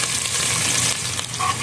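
Chopped onion goes into hot oil already seasoned with whole cardamom, cinnamon, cloves, peppercorns and bay leaf for vegetable khichdi, giving a loud, steady, dense sizzle that holds from start to finish with no talk.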